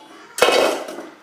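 A metal cooking pot is set down on a stove to make jaggery syrup for pineapple payasam, landing with a single close, loud clang and a ringing metallic rattle that fades over the next second.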